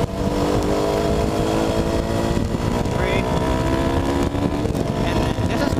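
Small 200cc motorcycle engine pulling hard at full throttle on a road in the Philippines, with a rising steady drone and climbing pitch under continuous wind buffeting, loud and close throughout.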